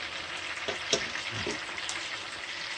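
Bourbon BBQ chicken wings pan-frying in a pot of hot grease give a steady close sizzle with a few brief louder pops and spatters from flipping.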